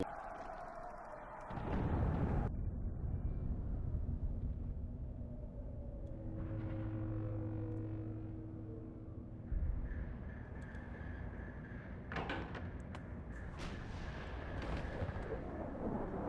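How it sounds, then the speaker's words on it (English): A bomb explosion hits a building in Splinter Cell Chaos Theory, a heavy booming impact followed by a long low rumble and scattered debris noise, loud and near with no voices. "The bomb just hit the building."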